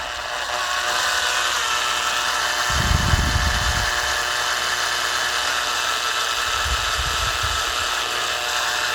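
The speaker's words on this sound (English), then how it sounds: "I'm just going to hold this while I drill it" A power drill bores through the outer wall of a vehicle body, the bit held by hand during a CB radio fit on a DR200. Under a steady motor whine, two heavier grinding bursts rise, one around the middle and another near the end.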